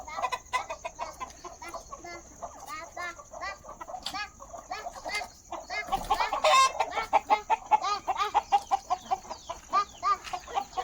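Several chickens cluck and chatter nearby in a chicken shed in the evening, in quick, rhythmic bursts, growing busier and louder toward the end.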